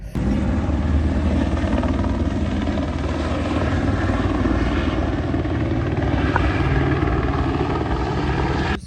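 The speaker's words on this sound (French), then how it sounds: "l'hélico est en train de passer, donc on doit arrêter la circulation" A helicopter passes over a roadwork traffic-control site in Australia, its loud, steady rotor and engine roar holding throughout without talk.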